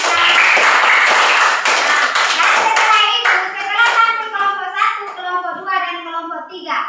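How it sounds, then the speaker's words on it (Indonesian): A classroom of pupils claps for a student group in an Indonesian lesson, a burst of close hand clapping that thins into scattered claps while children's voices chatter over it. "tepuk tangan untuk kelompok 3"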